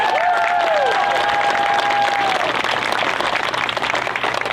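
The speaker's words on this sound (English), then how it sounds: "Keep that applause going." Crowd applause at an outdoor Pride rally, sustained clapping and scattered cheers, with a brief feedback-like whine early on that fades while the clapping continues.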